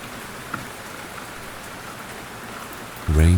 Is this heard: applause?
no